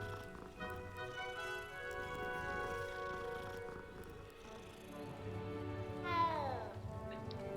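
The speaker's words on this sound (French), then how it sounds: "ça c'est du miaulement" A cat in the Hogwarts Legacy video game meows, a drawn-out call rising near the end over steady game music and background ambience.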